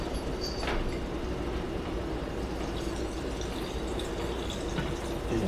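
Brine at two percent salt poured over sauerkraut: a steady, continuous splashing trickle of liquid, close and fairly loud, with no talking.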